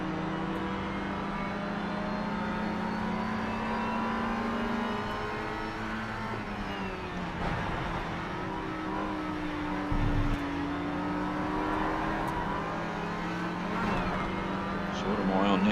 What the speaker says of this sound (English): I can hear that car ahead of me just as well as I can hear myself